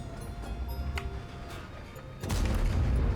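A German E50M tank in a video game fires its cannon: a low rumbling battlefield backdrop with faint ticks, then one heavy, close blast that booms and keeps roaring to the end.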